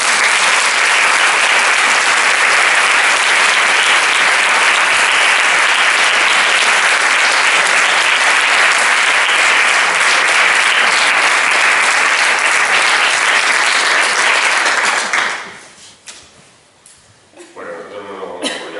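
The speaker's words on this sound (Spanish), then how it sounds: "Un fuerte aplauso para todos." An audience bursts into loud, sustained applause, a dense wash of clapping from many hands that holds steady for about fifteen seconds before quickly fading to scattered claps and room murmur.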